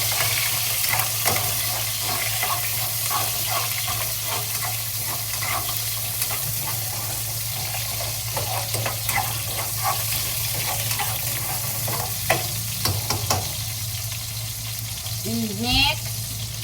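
Onions sizzle in a frying pan while being stirred, a steady crackling hiss broken by scraping and clinking of the utensil, with a few faint voices in the background.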